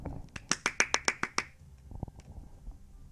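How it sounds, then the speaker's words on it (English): A fast run of about nine sharp, evenly spaced hand claps, close and crisp, followed by a few softer scattered thumps and faint background noise. "We're also going to clap for that"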